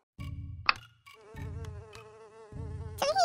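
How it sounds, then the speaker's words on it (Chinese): Mosquitoes buzzing in a Plants vs Zombies fan animation, close, loud whining buzz in repeated bursts with brief gaps and a sharp click partway through. "外面有好多蚊子"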